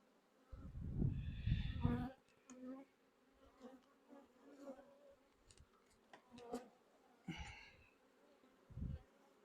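Honeybees buzz steadily and close by while a beekeeper inspects brood frames in a Pennsylvania nuc hive in midsummer, with a few louder bursts as bees pass near.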